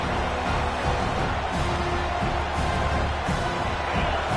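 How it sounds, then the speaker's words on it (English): A football stadium crowd builds noise to back the defense as the offense is pinned deep, a steady, distant wash of cheering and roar with no distinct voices standing out. "And this crowd coming to life here, trying to help the defense get a stop with the offense pinned back"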